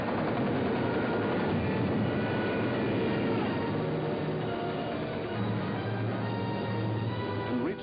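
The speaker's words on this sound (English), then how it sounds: "Some of the German bombers broke through London's defenses." German bomber aircraft over London during the Second World War, a steady dense engine drone filling the whole stretch at constant loudness with no voices.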